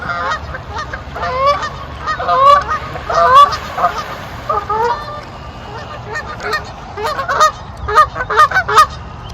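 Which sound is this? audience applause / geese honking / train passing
geese honking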